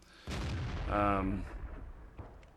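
A single heavy tank cannon shot from a TOG in World of Tanks booms out with a long rumbling decay that fades over about a second.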